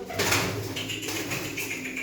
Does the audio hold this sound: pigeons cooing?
yes